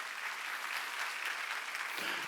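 A congregation at a Korean Sunday church service applauds in a continuous, even wash of many hands clapping. The sound is quiet and distant, with no voices over it.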